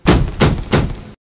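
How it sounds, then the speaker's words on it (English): Three firm knocks on a door in a Mickey Mouse Clubhouse game, evenly spaced, close and solid, with no talking. "Can you open the door and see who is knocking?"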